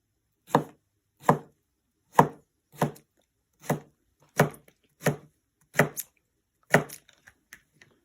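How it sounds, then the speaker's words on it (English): A knife chops salad ingredients into small pieces on a cutting board: eight or nine crisp, evenly spaced strikes, close and clear, followed by a few faint taps at the end. "I'm gonna cut it down, and I'm gonna kind of quarter this so it's not really big pieces"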